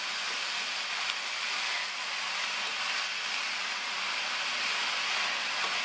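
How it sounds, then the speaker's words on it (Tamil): Banana flower sautés in hot oil in an open pan, giving a steady, even sizzle and hiss that holds at one level throughout, with no voices. "இது கூட வடிகட்டின வாழைப்பூவை சேர்த்துட்டு இதை வந்து நல்லா எண்ணெயிலேயே வதக்கி விட்டுக்கணும்."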